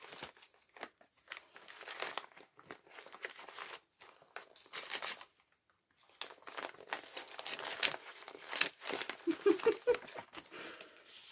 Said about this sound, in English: I'm just going to open this little tiny envelope.